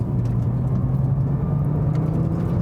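A turbocharged car's engine fills the cabin with a loud, steady low drone and road rumble throughout, without a distinct surge.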